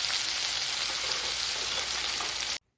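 Fish sizzling steadily in hot oil in a pan, a dense continuous frying hiss that holds loud and even, then stops abruptly near the end.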